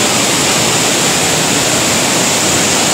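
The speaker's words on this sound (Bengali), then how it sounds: "দেখতে পাচ্ছেন বাঁধ দু টুকরো হয়ে গেছে, দুভাগ হয়ে জল যাচ্ছে" Water rushing through a breached earthen dam embankment in West Medinipur, a loud, dense, unbroken roar of torrent noise with no pauses.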